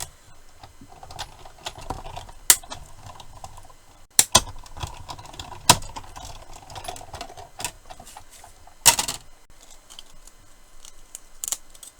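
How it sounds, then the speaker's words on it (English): A die-cut machine presses paper through plaid-pattern dies, giving quiet clicks and rattles with several sharp, loud clacks spaced irregularly over roughly twelve seconds, with no voices. "just run that through my die cut machine"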